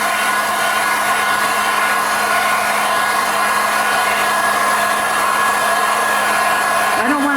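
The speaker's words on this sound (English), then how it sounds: "So I'm going to pick up my blow dryer once again" A blow dryer runs steadily and loudly, drying white paint on pinecones, a constant close airy whine that holds unchanged for the whole stretch and shifts slightly at the very end.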